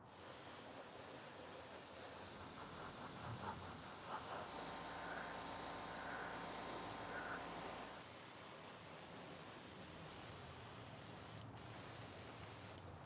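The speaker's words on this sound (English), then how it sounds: "Got my airbrush loaded with this flat black" An airbrush spraying flat black paint onto prop parts for Ghostbusters ecto goggles: a continuous close hiss of air and paint lasting the whole stretch, briefly shifting tone in the middle, with no talking.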